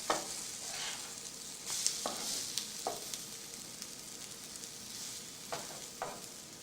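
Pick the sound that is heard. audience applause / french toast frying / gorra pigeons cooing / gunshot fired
french toast frying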